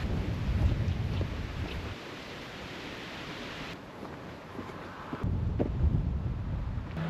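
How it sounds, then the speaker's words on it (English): Steady, broadband wind roars and buffets the microphone on a solo hike around Tittesworth Reservoir and The Roaches in the Peak District, shifting in strength for several seconds with no voices. "Today does seem to be a little bit of a windy day, to be fair."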